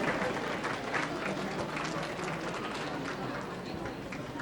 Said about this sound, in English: Big round of applause, please. Huge round of applause.